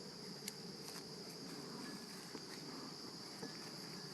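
Honeybees swarming around an open hive on a farm, a dense, steady buzzing drone throughout with faint clicks and knocks mixed in, close and continuous.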